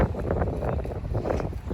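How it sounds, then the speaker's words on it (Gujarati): Strong wind rumbles and buffets the microphone in a steady, loud roar, with no voices. "પવન મસ્ત એવો છે, જબરજસ્ત."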